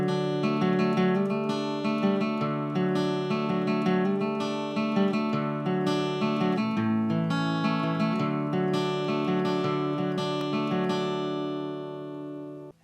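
Guitar plays the intro to a song at regular speed, a continuous, dense run of picked and strummed notes lasting several bars at a moderate, even level before ending with a brief fade.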